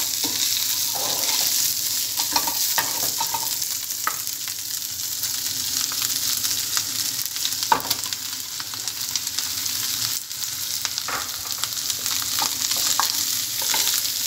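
Minced meat and onion frying in a pan, a continuous bright sizzle with occasional stirring scrapes and pops, close and steady, with no talking.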